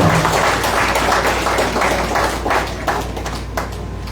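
A church congregation claps together in steady, overlapping applause during a French-speaking worship service, a moderately loud wash of hands with music humming faintly underneath.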